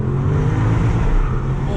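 A 2019 Porsche Cayenne Turbo with valve-controlled exhaust open in Sport Plus mode, a steady loud low engine and exhaust drone at speed, close and continuous, with someone talking over it.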